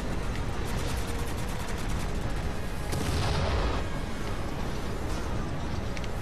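Dense, continuous Halo 4 gunfire and explosions fill the scene, a loud wash of rapid shots and booms with a heavier burst midway and no talk.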